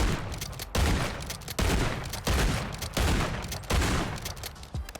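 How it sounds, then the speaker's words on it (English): Lockwood 680 gun fired in MW3 Warzone, several loud, close bursts of rapid gunfire separated by brief gaps, heavy and booming, with no voices over it. "the more that you shoot the gun, the more that the gun animates"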